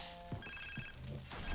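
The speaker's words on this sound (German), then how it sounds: "Telefon?" A telephone rings in the video game Far Cry 3, a short, clear ring among game noise with no voices.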